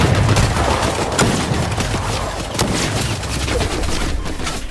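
Rapid gunfire in the Fortnite video game, a dense burst of sharp shots in quick succession over steady game noise, loud and up front.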